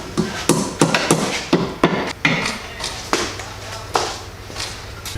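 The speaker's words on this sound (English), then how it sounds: "Rubber hammer." A series of dull, thudding strikes from a rubber hammer, about a dozen blows at an irregular pace, close and loud, with a low hum underneath.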